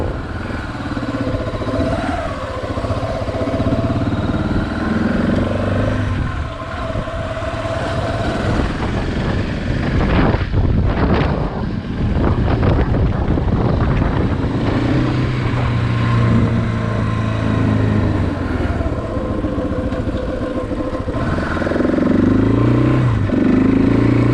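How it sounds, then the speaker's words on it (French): Strong wind buffets the microphone while riding a motorcycle, a loud, rough, continuous rumble mixed with engine drone that swells and churns throughout without any talk. "Je sais pas si tu m'entends, mais il y a gros vent."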